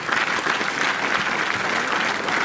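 A crowd at a Rotary Club of Thane Aces program gives the musicians a loud, sustained round of applause, thick and continuous from start to finish.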